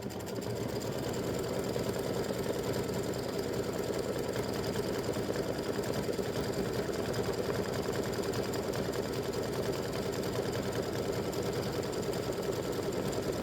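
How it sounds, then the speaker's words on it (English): A sewing machine satin stitching around an appliqué on fabric runs in a steady, rapid mechanical whir with a dense, even stitch rhythm, continuous and close for the whole stretch. "So I'm letting it continue that satin stitching around there."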